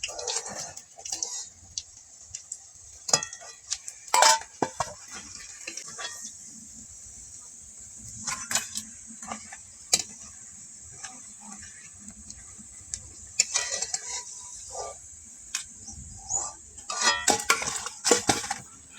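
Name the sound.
utensils turning and lifting fried pumpkin leaf chops from pan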